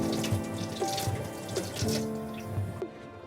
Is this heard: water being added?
yes